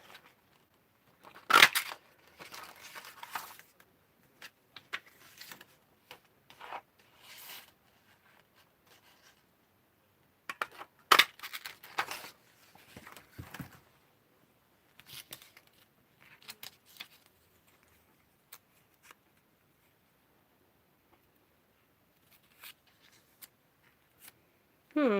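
Scissors cut through stamped, collaged paper cards in a home craft session, producing intermittent crisp snips and paper rustles in short bursts, close and fairly quiet, with long gaps between.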